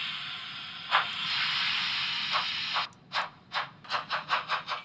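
Simulated sound of a BR03 steam locomotive from a Märklin Central Station driving simulator: a long steady steam hiss, then a quickening series of rhythmic chuffs building into a regular beat, close and clear with no talk.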